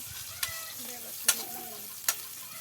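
Chopped onion, green chili and bay leaf sizzle in very hot oil, a continuous crackling fry broken by three sharp spatula clacks against the pan, with no talk.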